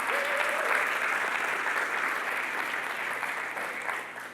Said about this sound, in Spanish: si le vamos a dar un aplauso a Cristo Jesús.